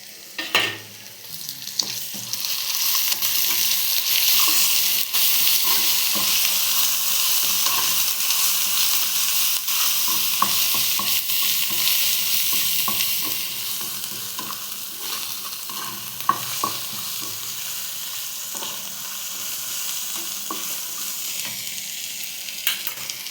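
Golda prawns fry with ginger, garlic, cumin, chili powder, turmeric and Kashmiri chili in hot oil, a loud continuous sizzle with scattered stirring scrapes and pops that eases slightly toward the end, no voices.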